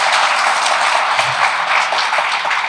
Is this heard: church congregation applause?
yes